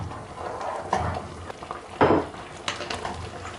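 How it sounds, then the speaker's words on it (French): A utensil scrapes and clinks against a pot as beaten eggs are poured and stirred into boiling Chinese tomato, egg and dough-bit soup, with a bubbling simmer underneath and a few louder clatters. "En versant les œufs, on les mélange tout de suite."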